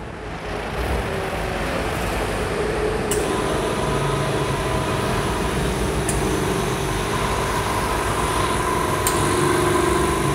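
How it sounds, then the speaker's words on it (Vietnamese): A Dekton DK59 140-liter oil-free air compressor runs with a steady, even mechanical hum that holds at constant loudness throughout, with faint periodic clicks roughly every three seconds and no voices. "giờ mình sẽ cho anh em xem máy khởi động như thế nào"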